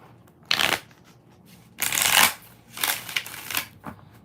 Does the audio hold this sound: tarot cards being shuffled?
yes